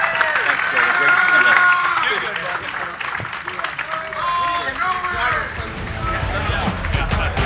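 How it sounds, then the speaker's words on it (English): Crowd applause at Las Vegas Motor Speedway during a trackside live event, a broad, steady wash of clapping and crowd noise that fills the whole stretch with brief tonal calls on top. "So if you would please give a big round of applause."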